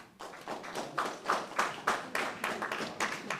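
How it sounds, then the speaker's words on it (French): Audience applause for the band Sillage at a live show at Kino Grenoble, a short burst of scattered hand claps from a small crowd, fairly close and uneven, with no talking over it. "Je vais vous écouter applaudir pour Sillage"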